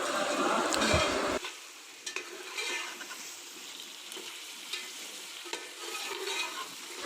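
Chicken with garlic and ginger frying on a medium flame for pulao, a steady sizzle with stirring scrapes and occasional pan knocks, close and continuous with no talk.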